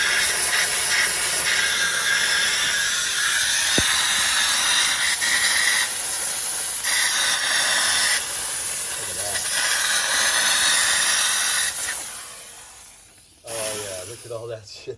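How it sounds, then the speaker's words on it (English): A vapor steam cleaner blasts degreaser off the rear suspension parts of a 1967-72 Chevrolet C20 truck, a loud continuous hiss that pulses in long bursts before cutting off near the end. "Vapor steam to the rescue."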